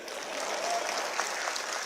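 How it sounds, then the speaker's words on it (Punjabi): A group of people at a meeting with the Punjab Chief Minister and state trader commission members applauds in a steady, even wash of clapping from start to end. "ਤਾੜੀਆਂ ਮਾਰ ਦੋ ਯਾਰ"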